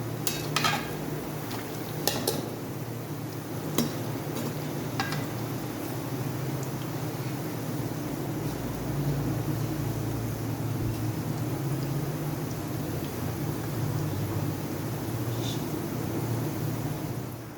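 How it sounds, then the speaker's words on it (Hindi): Pakoras deep frying in a pan of hot oil give a steady, quiet sizzle that runs throughout, broken early on by a few sharp metallic clinks of a spoon or utensil against the pan. "ये भी हमने पकोड़े इसमें डाल दिए हैं, सारे इसी तरीके से फ्राई करने हैं।"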